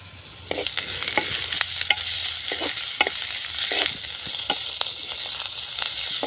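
Garlic and ginger paste frying in a pan for a spicy crab curry, a steady close sizzle with repeated scraping strokes of a spatula stirring through it, no talking.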